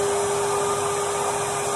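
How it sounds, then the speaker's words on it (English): A George Numatic wet and dry vacuum cleaner, fitted for hoovering, runs with a steady, loud whine and a constant airflow roar, heard close and alone. "But now it's only for hoovering, so I only have to put on this one. You can hear the sound."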